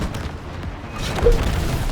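Bombs are shot down and burst in the video game Split Fiction, with deep booming blasts rumbling under the action and one heavier explosion standing out midway.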